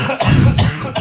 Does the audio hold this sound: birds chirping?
no